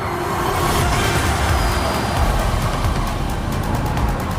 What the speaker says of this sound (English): What you can hear, though, is the tyre squealing.